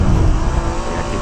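Nissan GT-R engine driving through the Nürburgring Carousel in third gear during a time-attack lap, a loud, steady close-up in-car drone with slight tire noise, no talking.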